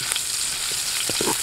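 Ginger frying in hot cooking oil outdoors, a steady close sizzle with a few brief crackles and pops, no voices.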